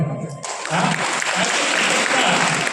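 Applause from an audience breaks out after a brief moment of quieter murmur, a dense, steady clapping that stays loud and close through to the end.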